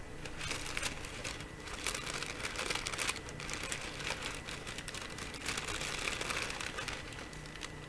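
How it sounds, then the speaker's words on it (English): Continuous crinkling of paper being handled up close, a dense crackling rustle that rises and falls without pause. "It's got this lovely crinkly paper."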